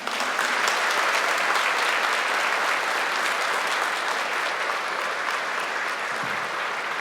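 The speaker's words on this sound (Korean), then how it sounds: "나오실 때 동안의 박수로 환영하겠습니다" Steady, dense applause from a church congregation welcoming the general assembly moderator, a continuous wash of many hands clapping at a loud, even level for the full length with no speech.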